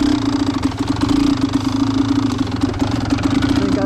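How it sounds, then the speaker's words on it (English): An enduro motorcycle engine runs steadily nearby in a storm-damaged forest campsite, giving a loud, even, throbbing idle with a rapid pulsing beat throughout. "I just tried to start the bike in gear"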